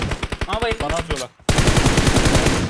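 Rapid machine-gun fire in a video game, loud and close, with a fast steady stream of shots, a brief gap, then another sustained burst, while a voice talks over the first stretch.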